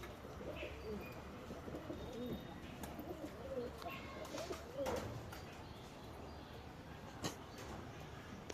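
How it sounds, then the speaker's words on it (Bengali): Pigeons in a loft coo softly and repeatedly against a quiet, steady background, with a few faint chirps and light clicks mixed in. "এটা ছেলে মানে নর পায়রা।"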